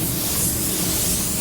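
A spray gun with a Porphis PRD-717 split tip nozzle lets out a steady, even hiss of atomized spray up close, unbroken throughout.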